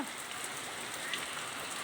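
Steady rain patters down in a soft, even hiss, with no other sounds standing out.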